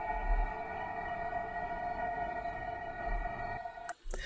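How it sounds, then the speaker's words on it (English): A steady synthesized tone of the first five harmonics stacked together drones evenly, with a soft noisy hiss underneath, cutting off abruptly near the end. "We are left only with the noise of the first 5 harmonics"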